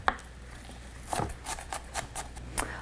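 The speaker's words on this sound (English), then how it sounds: "bringing my knife across the middle, not all the way through, and then down the top" A knife dicing an onion on a cutting board, with an irregular series of crisp chops and taps, close and fairly soft, with no voices.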